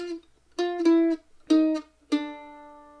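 A mandolin plays a short syncopated jazz melody of bright, ringing notes in a few quick groups using alternate picking, close and clear, with no voices.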